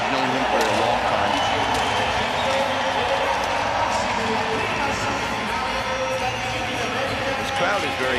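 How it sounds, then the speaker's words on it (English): A crowd at a para ice hockey match cheers, a continuous loud roar with bursts of shouting and clapping, with commentary voices over it. "This crowd is very happy, I'll tell you that much"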